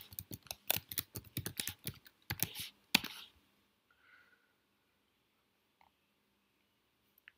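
Rapid, close keystrokes on a computer keyboard come in a dense burst while code is typed, ending in a final hard tap before near silence and a couple of faint isolated clicks.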